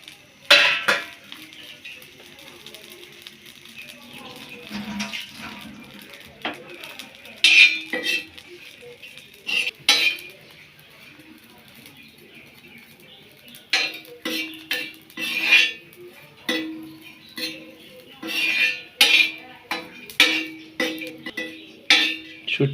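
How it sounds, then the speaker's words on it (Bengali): Chilies are stirred and roasted on a metal tawa, giving sporadic scraping clinks and clatters of a spatula against the pan, close by and irregular, with gaps of near-quiet between bursts. "এই মরিচগুলো এইভাবে তাওয়ার মধ্যে ভাজে নেওয়া হচ্ছে"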